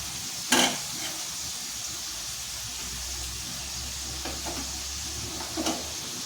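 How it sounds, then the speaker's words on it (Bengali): Vegetables fry with turmeric and salt in a pan, a low steady sizzle in the background, broken by a sharp utensil clack near the start and a couple of softer stirring knocks later. "এগুলোকে একটু হলুদ নুন দিয়ে ভাজা ভাজা করে নেবো"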